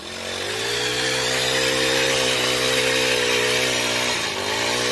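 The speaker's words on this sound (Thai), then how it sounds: "ขุดดินช่วงที่ดินเปียกแบบนี้มันง่ายขุดเป็นร่องง่าย" A converted brush-cutter engine drives a digging attachment cutting a trench in wet soil around a date palm, its close, loud two-stroke whine holding steady throughout with a brief dip in revs near the end.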